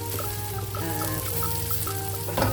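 Beef steak fries with garlic and butter in a pan, a continuous busy sizzle up close with scattered pops and crackles. A few light clatters come near the end, and no one speaks.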